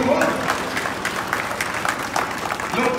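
Applause from a crowd at a political rally in Amethi, dense steady clapping throughout with a voice faintly audible beneath it.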